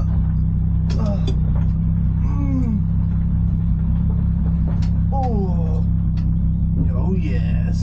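A car engine fuelled on pure alcohol idles with a steady low rumble, with people talking excitedly over it.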